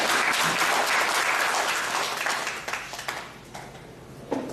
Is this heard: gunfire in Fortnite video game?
no